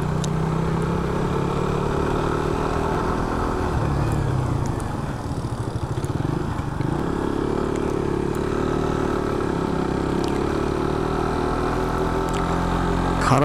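A motorcycle engine drones steadily and loudly while climbing a steep hill road, holding a continuous labouring hum with a brief dip in the middle and faint clatter throughout.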